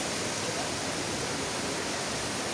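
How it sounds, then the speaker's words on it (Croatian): Clear spring water flowing steadily at the Duman spring near the Bosnia and Herzegovina–Croatia border, a continuous broadband rush heard close and alone. "Kako bistra voda teče"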